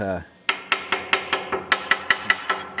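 A hammer chips slag off a fresh weld on a trailer's stake pockets and scrub rail, striking about a dozen sharp, ringing metallic blows in a steady rhythm, loud and close with no talk.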